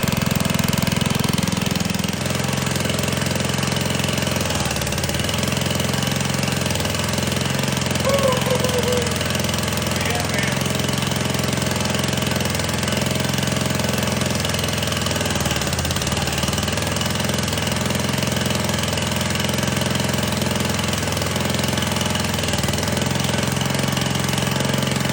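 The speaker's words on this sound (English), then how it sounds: "But you see how this motor fired right up." Small gasoline engine on an old log splitter idling steadily after starting, a loud continuous low chugging drone that stays even from start to finish.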